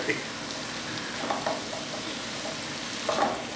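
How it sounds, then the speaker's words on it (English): Garlic, mushrooms and onions sizzle softly in a pan while being stirred for a filet mignon brown rice vegetable soup, with a low steady fry and a few scraping spoon strokes. "And we're going to stir together all of the garlic, mushrooms, and onions."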